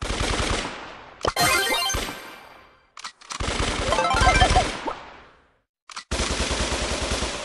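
Video game gunfire from Colt's guns rattles in loud bursts separated by short silences, with rapid repeated shots in each burst.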